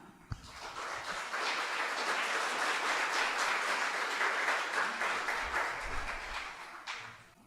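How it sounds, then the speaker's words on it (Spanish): A congregation at a Sunday church service applauds for mothers, a dense steady clapping that swells after a sharp first clap, holds for several seconds, then tapers off; heard at moderate distance without talking. "dese un fuerte aplauso como mamá"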